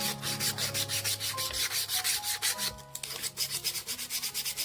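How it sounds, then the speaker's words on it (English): Sandpaper of 400 grit rubs over a 3D printed PLA plastic part for a scale model car lift, quick rhythmic back-and-forth scratching strokes, close up with no voices. "I'm using 400 grit sandpaper here."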